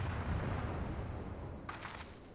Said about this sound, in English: Cannon fire! Where did it come from?